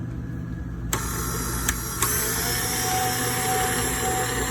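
An electric mixer churns bread dough with flour, salt and other ingredients, a loud continuous motor hum with a few sharp knocks near the start, alone without talk.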